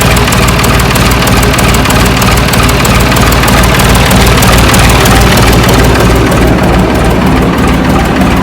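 A bulldozer's diesel engine runs loud and close, idling in a steady low rumble with a faint rhythmic knock throughout.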